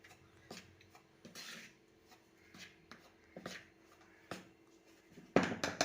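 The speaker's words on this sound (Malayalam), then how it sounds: "ഇതിലേക്ക് അരിപ്പൊടിയും ചേർത്ത് കൊടുക്കാം. ഇനി ഇത് നന്നായി ഒന്ന് മിക്സ് ചെയ്ത് കൊടുക്കാം." Snack dough of rice flour and ground cardamom is stirred in a bowl, making faint scraping and soft clicking knocks at an uneven pace. A louder rustle comes at the end, and no one speaks.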